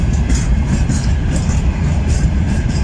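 A train passes on an old non-electrified railway near Vladimir, a loud, continuous close rumble with rhythmic wheel clatter and no voices.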